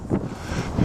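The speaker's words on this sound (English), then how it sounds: "It's extremely windy up here." Strong wind buffeting the microphone on a hilltop, a low rumbling roar that swells and gusts throughout the short stretch.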